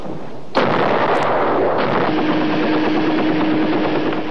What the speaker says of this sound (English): other units of the U.S. 7th Fleet take careful aim, on call from troops fighting ashore, and place supporting fire on Viet Cong concentrations